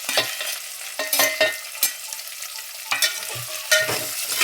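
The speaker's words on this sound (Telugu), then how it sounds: "వేగేదాకా కలుపుకోవాలి." Onions, curry leaves and carrots frying in a pan, stirred with a utensil: a soft steady sizzle broken by repeated scraping strokes, close and fairly loud, with no talking.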